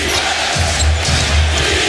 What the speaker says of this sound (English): the Celtic fans cheering on their team with a 14-point lead now